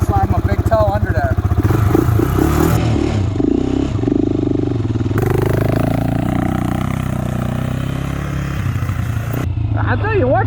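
Stock Honda 400EX ATV engine revving and pulling hard while riding, loud and close with rising pitch, clatter and wind buffeting throughout.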